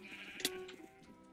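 Sheep bleating in a multiplayer video game, a short bleat with a brief louder burst near the middle over a steady game background, with no talk.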